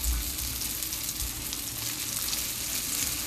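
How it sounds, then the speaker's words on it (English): Breaded seitan cutlets frying and browning in a pot, a steady crackling sizzle with small pops, fairly quiet and close, no voices. "As you can see, we're browning these up absolutely beautifully"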